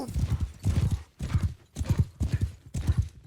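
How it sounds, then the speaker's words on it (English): Donkey hooves clip-clopping in the video game Mount & Blade II Bannerlord, a steady repeating run of close, hollow hoof beats in quick clusters with brief pauses between. "Look at him on his bloody donkey"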